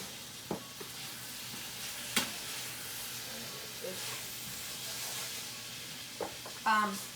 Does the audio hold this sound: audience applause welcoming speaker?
no